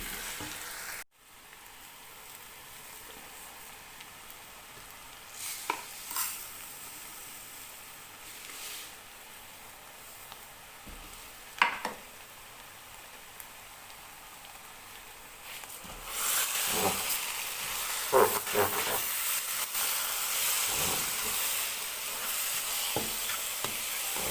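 Grated carrots are roasted in a pan for gajar ka halwa, giving a continuous soft sizzle and frying hiss with occasional spatula scrapes and stirs, growing louder and brighter in the final stretch.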